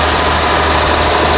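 Antique Massey Ferguson tractor engine at a plow day in Maine's St. John Valley, running with a loud continuous droning rumble close by, steady throughout with no talking.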